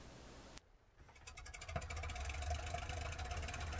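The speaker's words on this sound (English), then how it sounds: "you want to start both engines at once" Twin engines of a Felixstowe F.2A flying boat in a flight game start together after a brief click, then build into a steady, loud, continuous rumbling drone that holds to the end.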